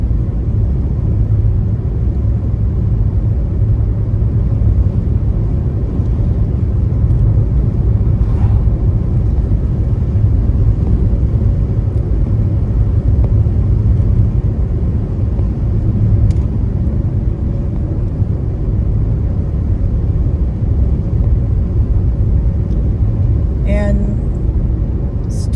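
A car cruises along a road through scenic country on a road trip, with a loud, steady engine and road rumble filling the cabin from start to finish.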